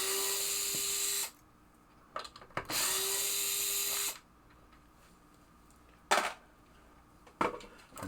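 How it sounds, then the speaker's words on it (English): Screws backed out of a 1975 Williams Little Chief pinball machine mechanism with a cordless driver, two whirring bursts of about a second each, then scattered sharp clinks of metal parts nearby. "Now I'll take these 3 screws out."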